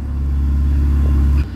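A white Ferrari idles steadily in Japan, giving a close, loud, deep engine rumble that holds even and then drops off slightly at the end.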